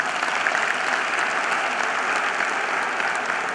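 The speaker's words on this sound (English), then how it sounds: "a big round of applause goes for the Board of Studies one more time" Loud, dense applause from a conference audience at a chartered accountancy student event, a continuous even roar of many hands without any break.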